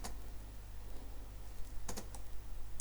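Computer keyboard keys are pressed while entering AutoCAD drafting commands, giving a few sharp, close clicks at irregular intervals over a steady low hum, with no talking.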